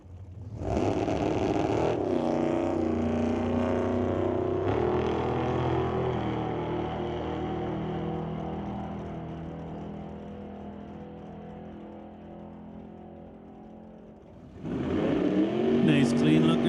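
The Quality Racing Duster drag car makes a loud, sustained engine roar down the strip at a drag race, the pitch climbing as it pulls away and the sound fading. A fresh surge of engine noise rises near the end.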